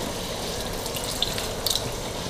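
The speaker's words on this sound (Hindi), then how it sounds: "थोड़ा सा ऊपर पानी डालेंगे इस तरह" Water poured over mutton koftas in a cooking pan, a soft steady watery rush with a few brief splashy accents, fairly quiet and close, with no talking.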